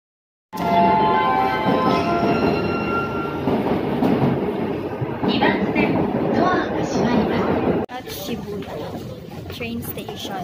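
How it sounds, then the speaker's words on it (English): A Japanese train station with a passing train, its steady rumble, clatter and faint wheel squeal close and loud for most of the clip before the sound shifts; people chat in another language over it. "Train station."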